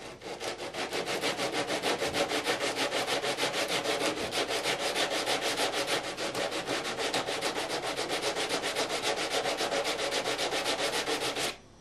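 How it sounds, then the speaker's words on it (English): Rapid back-and-forth sanding strokes rasp across frets on a bass guitar neck in a fast, even rhythm for about twelve seconds, close and steady, then stop abruptly; no talking. "I'm going to go ahead and start sanding a few of these off."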